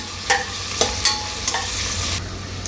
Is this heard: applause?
no